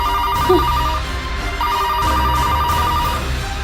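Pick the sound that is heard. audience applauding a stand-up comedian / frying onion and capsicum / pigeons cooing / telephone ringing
telephone ringing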